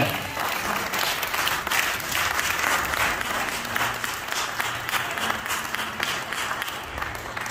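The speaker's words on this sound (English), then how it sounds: "Let's clap our hands for the goodness of the Lord" A church congregation claps its hands in praise during a Sunday service, producing thick, continuous applause that holds steady throughout.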